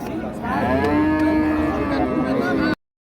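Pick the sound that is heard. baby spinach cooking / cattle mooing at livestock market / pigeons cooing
cattle mooing at livestock market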